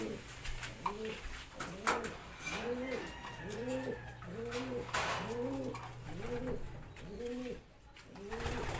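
Repeated soft coos from a thin pigeon in a loft, steady rhythm, close by, over a noisy background with a low hum and scattered clatter.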